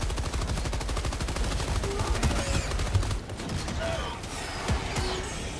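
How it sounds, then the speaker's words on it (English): A mortar sentry fires in Helldivers 2, a dense, unbroken stream of rapid mechanical bursts that stays loud and close from start to finish, with a few sharper cracks mixed in. "that's my mortar"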